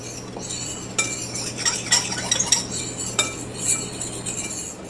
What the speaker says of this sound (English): I'm simply going to mix it.